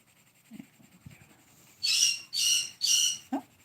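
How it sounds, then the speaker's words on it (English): Pet birds at home give three loud, shrill calls in quick succession, with a few softer chirps before and after, close and clear in an otherwise quiet room. "Oh, my birds have opinions."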